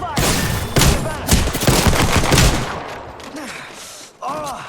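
Loud, close gunfire erupts in Apex Legends: overlapping automatic bursts and single cracks in quick succession, dying down briefly before another volley near the end.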